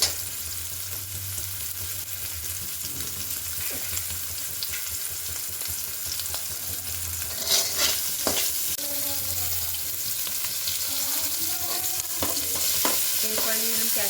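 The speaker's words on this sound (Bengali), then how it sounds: "তার জন্য আমরা শুধুমাত্র একটু ফ্রাই করে নেব" Vegetables for momos are stir-fried in a pan, sizzling steadily and closely throughout, with occasional stirring scrapes and clinks standing out from the continuous frying hiss.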